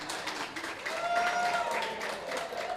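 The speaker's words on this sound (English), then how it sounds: "Give him a round of applause." Audience applause at a live Monday Night Racing esports championship event, greeting driver Anthony Alfredo; a moderate, steady wash of clapping with a faint tonal whine through the middle and some background voices.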